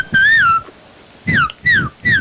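Two people whistle in turn, one long rising-and-falling note followed by three shorter sliding whistles, loud and close with brief gaps between them.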